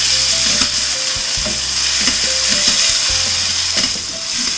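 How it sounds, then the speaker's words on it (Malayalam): Chopped tomato sautés with onions in a hot pan, giving a loud, close, continuous sizzle, while a spoon scrapes and stirs in a rough rhythm throughout. "ഈ ടൊമാറ്റോ ഇട്ടിട്ട് വഴറ്റി കൊടുക്കാം."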